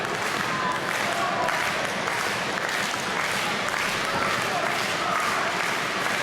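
A hometown wrestling crowd at a tag-team match, Hardys versus Extreme Horsemen, cheers and claps in a dense, steady roar that fills the whole stretch without letup, with commentary voices faintly mixed in.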